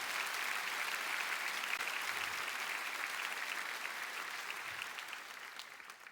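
Steady, distant applause from a church congregation at a prayer gathering, a soft continuous wash of clapping that holds evenly and thins slightly toward the end.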